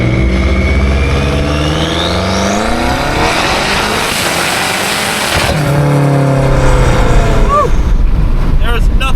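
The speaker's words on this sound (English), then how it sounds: "Let's get to really showing some of the beauty of this vehicle, and not only that, the sound and the speed." A BMW M8 Competition's engine revs hard and accelerates on a private road in Mexico, loud and close, with the pitch climbing through gear changes and a brief lift-off before pulling again.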